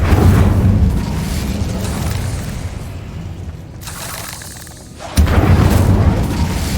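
An Incendio fire spell cast in Hogwarts Legacy, a loud booming burst of flame with a roaring body that dips and fades, then a second sharp blast surges back near the end.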